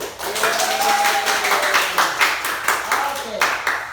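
A classroom of students claps for themselves, a fairly steady round of clapping with voices and chatter mixed in throughout.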